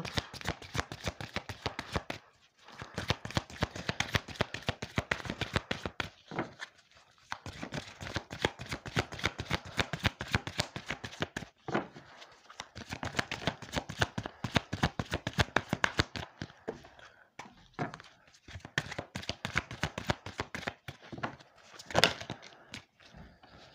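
Oracle cards shuffled by hand in repeated bursts, rapid crisp riffling clicks separated by short pauses, close and fairly quiet, with no talking.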